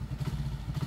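A motorcycle engine starts and settles into a steady, close idle, with a low rumbling pulse that runs unbroken for about a second and no voices over it.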